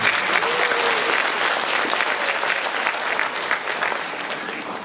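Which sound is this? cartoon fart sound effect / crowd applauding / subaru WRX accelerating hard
crowd applauding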